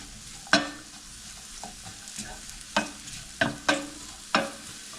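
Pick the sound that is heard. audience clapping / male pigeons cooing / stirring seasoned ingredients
stirring seasoned ingredients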